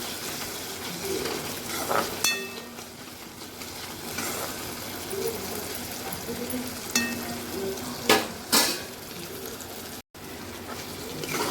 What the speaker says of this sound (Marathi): मी अर्धा टमॅटो घेतलेला आहे जास्त टमॅटो नाही घेतले त्यालाही व्यवस्थित आपण परतून घेऊया